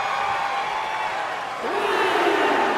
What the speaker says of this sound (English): El Corredor letting the fans know he appreciates them cheering him on